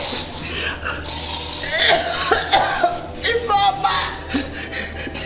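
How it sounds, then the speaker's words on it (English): A spray is blasted into a woman's face in a Nigerian drama film scene, followed by harsh, repeated coughing under loud, agitated voices. "Spray it into her face."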